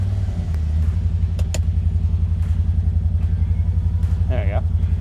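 A 2024 CFMOTO ZForce 800 Trail side-by-side idles with a loud, steady low engine rumble while it is maneuvered, heard up close, with a few clicks and a short voice near the end.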